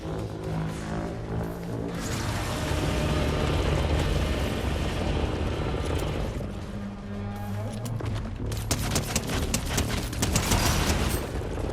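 Fortnite gunfire in dense bursts and rapid volleys within a loud, roaring game mix, continuous and close, growing sharper toward the end.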